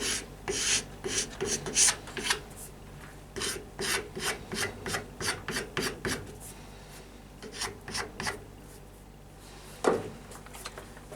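Ebony overlay on a hickory pyramid bow being sanded by hand, a close series of rhythmic rasping strokes that slow and space out toward the end, ending with one louder scrape.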